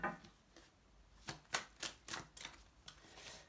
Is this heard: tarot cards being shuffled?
yes